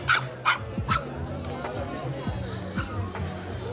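Several small dogs bark and yip in quick, repeated bursts close by in Guatapé, Colombia, over a background of murmuring voices.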